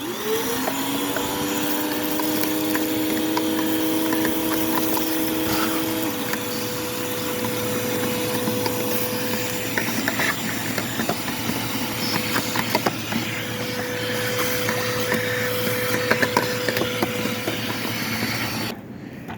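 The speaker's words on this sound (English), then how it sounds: "we just brought out our vacuum cleaner and hooked up a quick extension cord" A vacuum cleaner, run on an extension cord to clean out a 2006 Toyota Corolla's air filter housing, runs continuously with a steady whine and hum, its pitch dipping briefly early on, with faint rattles and knocks over the motor.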